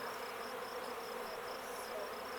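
Honey bees buzz steadily and densely around an opened beehive during an apiary inspection in May, a continuous close hum without pauses and no talking.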